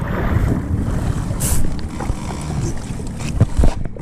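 A jet ski riding over lake waves at Cedar Point beach, with loud steady engine drone mixed with heavy wind buffeting and water splashing, close and continuous.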